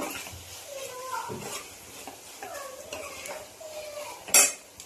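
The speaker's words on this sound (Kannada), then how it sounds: "ಸ್ವಲ್ಪ ಗರಂ ಮಸಾಲ ಎಲ್ಲ ಹಾಕಿ ಮಿಕ್ಸ್ ಮಾಡಬೇಕು" A spoon scrapes and clinks against a pan as garam masala and chilli powder are stirred into a capsicum curry, with short metallic knocks and a louder clatter near the end while a voice talks throughout.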